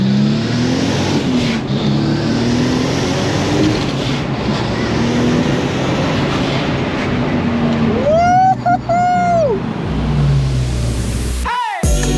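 A 640 BHP Nissan Skyline R32 turbo pulls hard under high boost, a loud continuous engine roar with rising pitch, then a sharp chirping sweep near the end and an abrupt cut.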